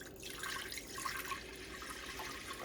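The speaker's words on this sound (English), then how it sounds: "We're gonna dump our water." Water is poured out into a measuring pot while making Essiac tea, a continuous splashing gush lasting a few seconds at moderate loudness.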